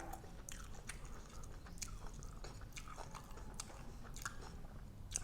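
Close, faint mouth sounds of someone chewing a grilled pork neck nam tok salad, with soft crunches, bites and wet squishes repeating unevenly over several seconds, and no talking.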